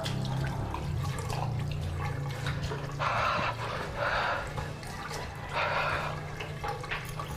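Running water in a small island guesthouse bathroom on Biri Island, Samar, a steady hiss of tap or shower flow with splashing bursts that rise and fall, heard alone without talk.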